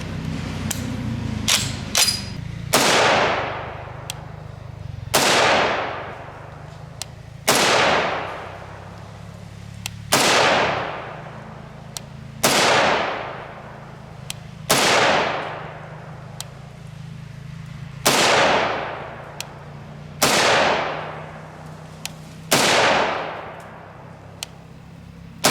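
A national match M1A rifle with a 22-inch barrel fires .308 Winchester 147gr FMJ rounds: about ten loud, sharp shots spaced a couple of seconds apart, each with a decaying echoing tail and no talking.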